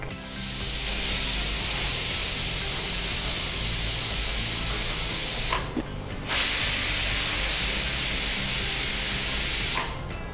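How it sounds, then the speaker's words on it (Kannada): A pressure cooker cooking methi mushroom pulao lets out a loud, sustained hissing steam whistle, which breaks off briefly before a second long whistle blasts again close by. "ಎರಡು ವಿಸಿಲ್ ಆಯ್ತು, ಈಗ ಆಫ್ ಮಾಡುವ."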